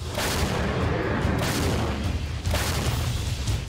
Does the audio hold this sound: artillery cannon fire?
yes